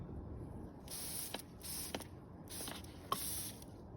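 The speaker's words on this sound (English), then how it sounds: "You get a can and a little spray applicator." Lanoguard rust protection aerosol sprayed from a can through a small applicator, several short hissing bursts with brief pauses and faint clicks between them, close and fairly quiet.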